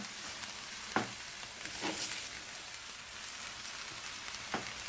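Chopped cabbage frying in a skillet after garlic, giving a steady, moderately loud sizzle with a few sharper crackles and stirring scrapes near the one- and two-second marks and again near the end, with no talking.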